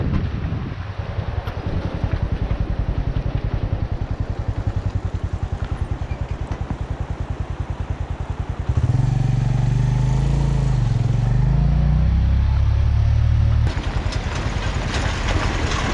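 Engine noise from a motorcycle on a mountain road between Chitral and Mastuj, a steady drone that swells into a louder, rougher stretch midway as it closes in from behind, then eases back.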